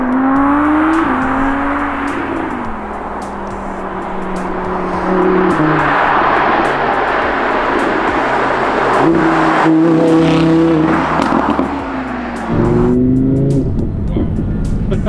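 An Audi R8 V10 Plus in Sport mode revs hard through downshifts and upshifts, the loud engine note stepping up and down with sharp exhaust pops and crackles between gears.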